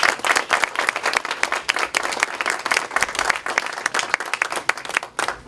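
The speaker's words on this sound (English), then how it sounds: "I'd like to give a round of applause for all of the candidates." A modest crowd applauds candidates at a town meet-and-greet meeting, individual claps distinct and uneven in a room, fairly close, continuing steadily before tapering and stopping near the end.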